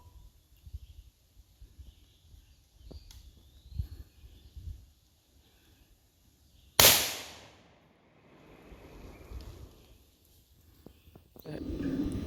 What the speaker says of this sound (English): we just shot down a small branch from the tree